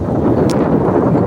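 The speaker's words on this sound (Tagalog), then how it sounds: "Mahangin dito" Wind buffets the microphone at a scenic viewpoint as a steady, loud rumbling roar, with no speech.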